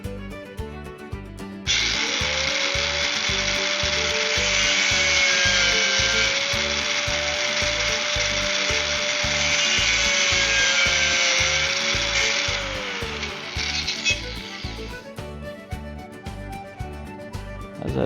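Angle grinder shaping a knife blank in a garage, a loud, steady high whine lasting about thirteen seconds over a fast, regular rhythmic thumping that continues before and after the grinding.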